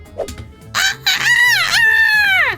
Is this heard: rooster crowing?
yes